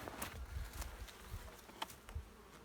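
A quiet, steady drone of bees at a log hive, faint and close, with soft scattered taps and bumps through the short stretch and no voices.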